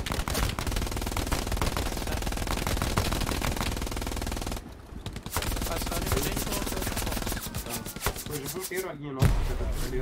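Rapid machine-gun fire and gunshots ring out loud and nearly continuous during combat in a World War II shooter match with a Sherman tank nearby, with a brief lull midway and a voice faintly under the din.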